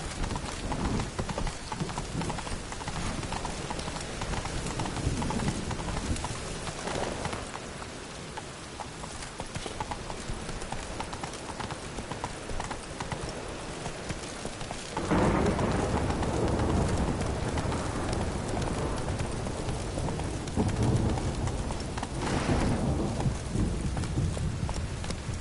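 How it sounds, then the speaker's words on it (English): Roach, the horse in The Witcher 3, gallops in steady rapid clip-clop hoofbeats over game ambience with birdsong, rain and a low rumble, and the hoofbeats get louder and closer partway through. "Run, Roach"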